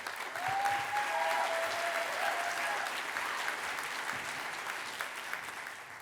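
A conference audience claps steadily in a large room at a closing keynote, a sustained wash of applause that holds at an even level throughout.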